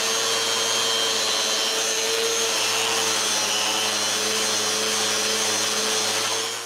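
A router fitted with a cove bit cuts a new cove profile into an old wooden bedroom post, a loud, steady high-pitched motor whine that holds unbroken throughout.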